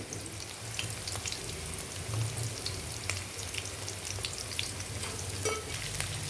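Ginger garlic paste frying in a pan with onions, cloves, cinnamon and cardamom, a steady close sizzle scattered with sharp crackles and pops, nobody talking.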